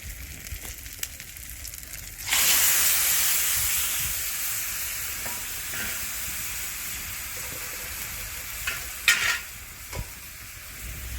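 Cooked turmudya val bean pods tipped into hot masala in a pan over a village wood-fired stove, setting off a loud, sudden sizzle that fades slowly to a steady fry, broken by a few stirring scrapes.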